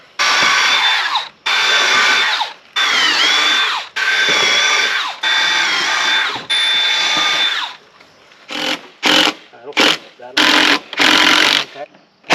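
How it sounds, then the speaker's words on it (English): Power drill boring mounting holes for an awning, sounding as repeated loud whining bursts of about a second each with short pauses, then quicker, choppier bursts toward the end. "So we're going to go ahead and get our holes all drilled out"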